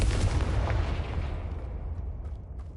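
In Hogwarts Legacy, a Confringo fire spell detonates with a loud, booming blast that hits at once and then rumbles and fades over a few seconds, with a few faint crackles at the tail.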